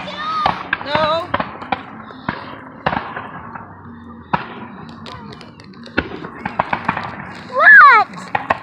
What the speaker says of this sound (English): Watch the fireworks.